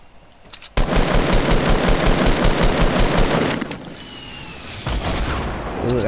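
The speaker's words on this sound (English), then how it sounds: "Explosions, shotgun battles" Rapid bursts of automatic gunfire and booming explosions in a shooter video game battle, loud and dense for about three seconds before easing into a quieter lull with a final burst.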